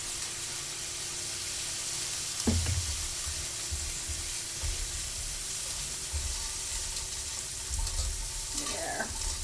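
Garlic fries in a pot for roast beef soup with a steady, close sizzle that runs throughout, broken by a couple of faint utensil scrapes.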